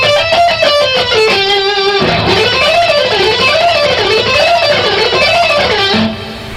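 Electric guitar in a rock lead style plays a fast sequenced run, starting with a steady line of notes, then sliding into a wavering, repeating descending figure before a final lower held note, loud and alone.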